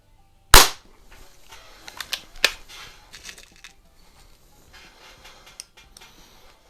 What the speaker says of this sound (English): .22 version, I'm going to be shooting these 7-grain Meisterkugels, and we'll go ahead and shoot a couple shots with it